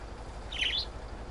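A pet budgie on a farm gives one brief, faint high chirp, alone against quiet room background.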